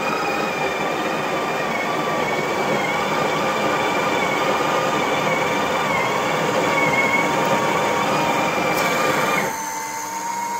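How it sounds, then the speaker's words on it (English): A Breville Oracle espresso machine grinding coffee beans, a steady, loud mechanical whir and grind with a high tonal whine, running continuously for about ten seconds before dropping slightly near the end. "you'll have seen the machine just grind the coffee."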